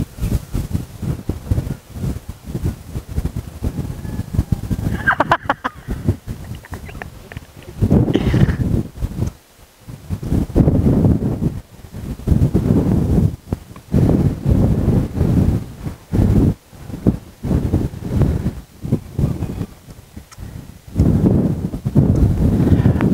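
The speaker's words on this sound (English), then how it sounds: "what we want to do, of course, is try that in a bit of wind" Wind gusts buffet an outdoor test of a Pelton wind turbine, coming as loud, uneven rumbling bursts of wind noise on the microphone with short lulls between them.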